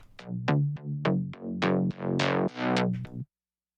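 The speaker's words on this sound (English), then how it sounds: "By layering these basses," Two layered synth basses with automated cutoff and decay, a short run of bright plucky notes whose filter sweeps open and closes on each hit, rising in brightness over about three seconds then stopping dead.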